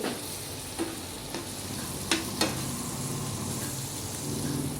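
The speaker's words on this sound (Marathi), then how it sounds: "दही मसाला टाकल्यावर मात्र दही फाटू नये म्हणून मसाला एक मिनिटभर सतत लो गॅसवरती हलवत राहायचा आहे" Dahi masala for bhindi frying on low gas while being stirred continuously, a steady close sizzle broken by a few soft scrapes and taps of the spoon against the pan.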